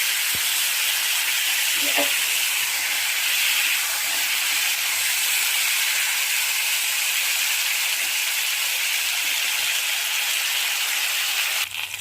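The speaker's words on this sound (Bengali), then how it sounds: "দেখুন আলু বেগুনটা ভাজা হয়ে গেছে।" Potatoes and eggplant fry in oil seasoned with nigella seeds, giving a steady, close, loud sizzle and hiss that runs unbroken for the whole stretch, with no talking.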